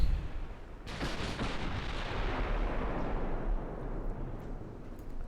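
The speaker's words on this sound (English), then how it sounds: "See if I can get all 12 guns firing here." Battleship guns firing in the naval game Ultimate Admiral: Dreadnoughts, a loud booming salvo that breaks into a dense, rumbling roll of overlapping blasts lasting several seconds.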